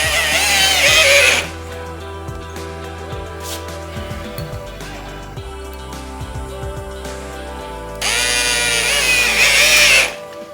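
A power drill drives a 1/4-inch GRK screw through a pre-drilled 3/16-inch steel deck leveler plate on an outer post. It gives two loud, whining bursts, one at the start and one near the end, with quieter handling noise between them.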